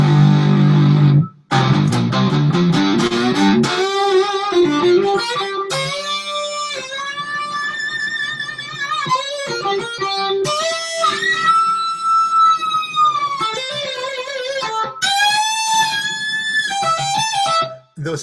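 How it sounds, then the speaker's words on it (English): An amplified violin plays multiphonics through a distortion effect, producing layered, sustained buzzing tones with shifting chords, bent pitches and brief abrupt breaks, loud and close throughout. "those things I'm doing there are called multiphonics"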